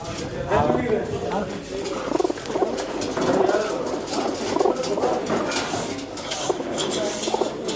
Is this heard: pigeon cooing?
yes